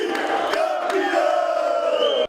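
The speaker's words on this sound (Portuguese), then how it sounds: "A festa da torcida tomou conta do Aeroporto Internacional Tom Jobim." Flamengo football fans celebrate at Tom Jobim International Airport in Rio, a loud crowd roaring and chanting together in a sustained, echoing mass of voices.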